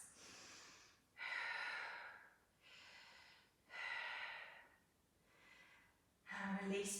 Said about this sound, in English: Big breaths.